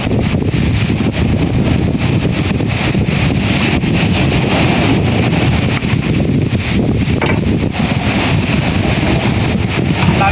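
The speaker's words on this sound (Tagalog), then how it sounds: "daming hangin o oh." Strong wind roars and buffets the microphone without pause, a loud, steady rushing that fills the whole stretch with no voices.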